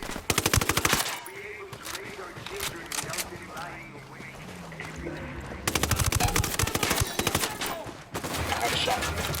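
Rapid automatic gunfire bursts from the shooter game Ghost Recon Wildlands, loud and sharp at the start and again in sustained volleys later, with a voice talking in between.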